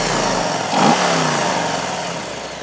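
A stock 2021 Harley-Davidson Street Bob with the 114 engine and a high-performance air intake revs loud and close, a deep throaty V-twin rumble that swells briefly then settles back to a steady growl.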